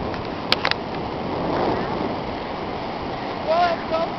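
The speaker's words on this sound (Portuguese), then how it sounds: "Ali é o mar." Sea waves on the Irish coast, a broad wash of surf with wind buffeting the microphone, a couple of brief clicks early on and a faint tonal sound near the end.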